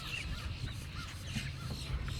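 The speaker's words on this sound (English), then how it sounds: "And these are crows in the trees." Crows cawing from roosting spots in park trees, several harsh calls scattered across a steady outdoor background, moderately near.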